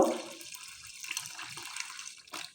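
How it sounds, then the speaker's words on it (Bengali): Warm water is poured into flour batter for green-coloured patishapta, making a brief splashy pour that fades into light trickling and a few small liquid sounds. "এবার আমি উষ্ণ গরম জল দিয়ে ব্যাটারটা গুলে নেব"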